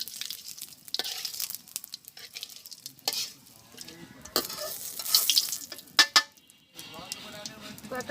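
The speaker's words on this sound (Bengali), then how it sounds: "তেল দিয়ে দিতেছি, কটা জিরা পোড়াইয়ে রাখবো, কয়েকটা গোটা জিরা দিয়ে দিলাম" Whole cumin seeds spit and crackle as they fry in hot oil in a village kitchen, with bursts of sizzling and a few sharp pops and utensil clinks, fairly close and loud.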